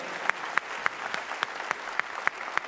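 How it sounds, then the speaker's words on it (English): An audience at the CPAC 2019 conference claps in unison, a steady rhythmic beat of about three claps per second over a faint crowd murmur. "give him one more round of applause"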